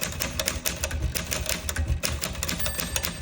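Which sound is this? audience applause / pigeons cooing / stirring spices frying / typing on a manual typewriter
typing on a manual typewriter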